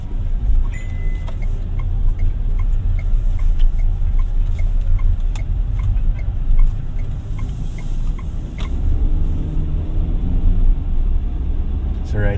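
GAC GS3 Emzoom R-Style crossover driven in comfort mode through simulated city traffic, heard from inside the cabin as a steady low engine and road rumble with faint ticking over the whole stretch.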